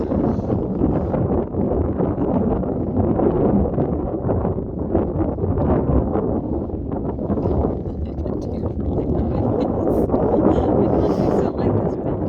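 Strong wind buffets the microphone out in the Wolf Creek hills near Veneta, Oregon, a loud continuous rumbling roar that stays close and constant throughout.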